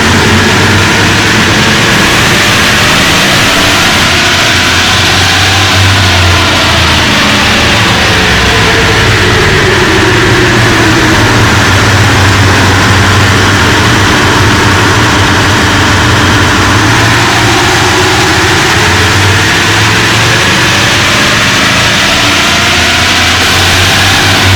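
A 79 series engine runs on a dyno after a custom tune, a loud, continuous, heavy droning roar that swells and eases in slow waves of revs, with no voices over it.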